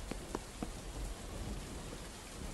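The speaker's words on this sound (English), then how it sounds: "It's doing a rain." Steady rainfall in the video game Trader Life Simulator, a dense, even hiss of drops with faint scattered patters and no pauses throughout.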